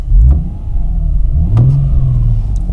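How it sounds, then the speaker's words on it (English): A car engine revs up and settles back to a steady idle, loud and close, with a brief clunk before each rise and no talking over it. "If I rev the engine a bit,"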